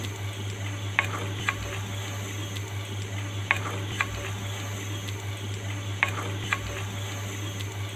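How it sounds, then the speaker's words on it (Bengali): Meat for Chittagong-style kala bhuna is stirred and turned in a pan, a steady low sizzle with periodic scraping clicks of a spoon against the pan, close and unaccompanied by talk. "নিচ থেকে নাড়াচাড়া করে উল্টিয়ে পাল্টিয়ে আমি মিশিয়ে নিচ্ছি"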